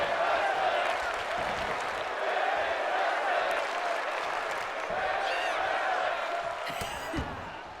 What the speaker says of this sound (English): this Huntington crowd chanting for women's wrestling, chanting for Joshi wrestling